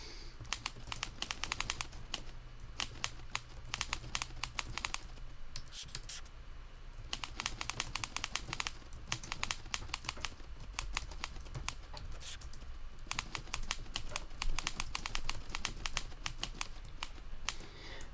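Fingers type on a computer keyboard in quick bursts of crisp clicks, pausing briefly between runs, close and fairly quiet with no talking.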